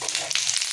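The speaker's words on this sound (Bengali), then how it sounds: "এবার ওই তেলের মধ্যে আমি সামান্য জিরে ফোড়ন দিলাম" Cumin seeds sizzle in hot oil left from frying eggplant, a brief, close, crackling hiss that stays bright and constant.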